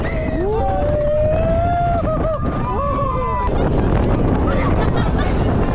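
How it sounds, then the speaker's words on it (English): Strong wind buffets the microphone with loud, steady broadband roar on a wintry Madeira island, while people chat and exclaim over it throughout. "very strong wind"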